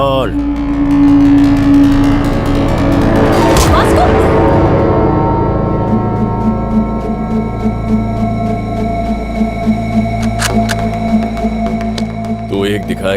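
A motorbike engine revs hard and loud up close, then settles into a warbling, fluctuating drone with further engine pitch swings, mixed with film sound effects.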